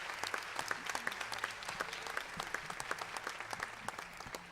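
Sustained applause from an audience at a ceremony honouring a woman on International Women's Day, a dense steady patter of many clapping hands lasting throughout, with no talk over it.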